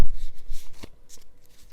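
A deck of tarot cards being shuffled by hand, with a quick burst of riffling flutters and soft slaps close by, fairly loud, then lighter card rustles continuing without speech.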